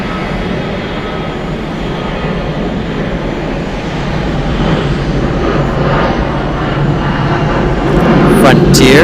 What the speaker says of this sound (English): Frontier 1582 going to Detroit, and Airbus A321